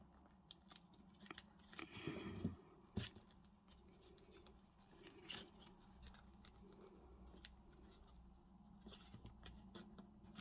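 Scissors snip through paper for a Tim Holtz junk journal photo mini foldout, a run of quiet close cuts with a denser cluster of snips early on, then scattered clicks and rustles with no talking.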